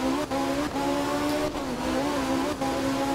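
Group 4 rally car in art of rally on a wet Australian stage: a loud, steady, high engine drone with brief dips at gear shifts, heard alone with no voices.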